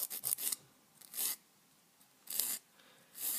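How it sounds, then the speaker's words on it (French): Straight nail file rasping along the sides of a false acrylic nail, a series of short scratchy strokes in quick bursts with pauses between, close and fairly quiet. "Donc pour faire les côtés, on peut prendre sa lime droite."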